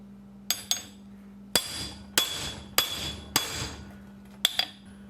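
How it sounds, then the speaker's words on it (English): Heavy hammer pounding on a Mercruiser Bravo 3 sterndrive propshaft during seal replacement: six sharp metallic strikes at irregular intervals with ringing decay, close and loud over a steady low hum, no talking. "Find a heavy hammer. Recommending sledges."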